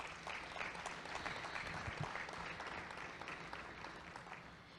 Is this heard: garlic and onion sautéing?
no